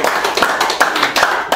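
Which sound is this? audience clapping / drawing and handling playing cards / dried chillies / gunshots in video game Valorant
audience clapping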